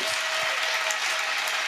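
Crowd at an evangelistic healing and deliverance crusade in Bafoussam claps in a steady, loud, continuous wash, with a faint sustained tone running underneath throughout the short burst.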